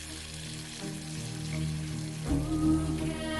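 Steak sizzling in skillets for an Applebee's restaurant advert, a steady frying hiss that swells louder toward the end with no talk over it.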